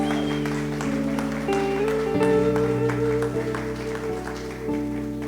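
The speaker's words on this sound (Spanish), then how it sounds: "Vamos a aplaudir una vez más." A church congregation claps in sustained, steady applause while organ or keyboard chords ring underneath, the clapping even and fairly close throughout.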